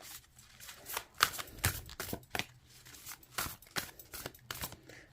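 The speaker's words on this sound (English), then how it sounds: "Let's see how these cards shuffle." A tarot deck shuffled overhand by hand, with soft papery riffling bursts and flicks recurring in an irregular rhythm, close and fairly quiet with no talking.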